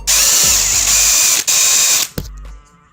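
A power drill spins a nut onto a bolt on a heavy-duty bike lock mounting bracket. The whir is loud and close, with short breaks and a final burst before it stops.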